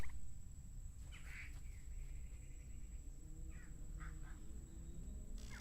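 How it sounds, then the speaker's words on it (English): Birds caw and call faintly in a few scattered bursts over a steady low ambient rumble in a video game forest setting, with no talking. "I can certainly hear the birds"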